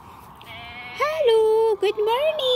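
A couple of wavering, nasal bleats from a goat, close and loud, with a brief break between them, on a small backyard farm.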